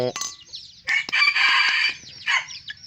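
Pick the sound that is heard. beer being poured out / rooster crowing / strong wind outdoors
rooster crowing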